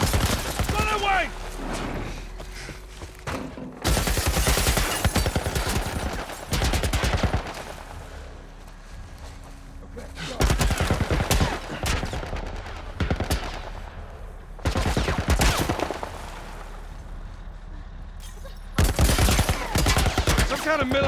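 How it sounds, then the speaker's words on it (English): Bursts of heavy automatic gunfire from a military turret in The Last of Us Part I, loud rapid fusillades broken by short pauses, with a few voices calling out between volleys. "Kind of military turret."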